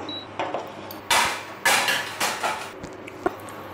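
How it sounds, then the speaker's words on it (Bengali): A metal tawa griddle is set down on a stove for making dosa in a home kitchen: several sharp, clanking metallic knocks in quick succession, close and fairly loud, without any talking. "এই ধোসার জন্য এই তাওয়া বসাবো"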